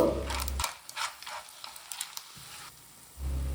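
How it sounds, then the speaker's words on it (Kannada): Mangalorean clams sukka being stirred in a pan, with a few soft scrapes and clinks over a quiet sizzle, brief and close, with a low rumble at the start and end. "ಇದನ್ನು ಸೇರಿಸಿ ಒಳ್ಳೆ ಮಾಡಿ ಮಿಕ್ಸ್ ಮಾಡ್ತೀನಿ"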